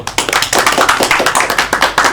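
A classroom group claps hands together in a quick, even rhythm during a teaching session, close and loud with no talking over it.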